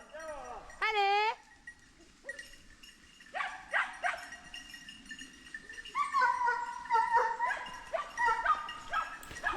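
Hunting dogs bark and yelp in repeated, irregular bursts during a wild boar drive hunt in the field, some near and some farther off, with a few higher whining cries mixed in.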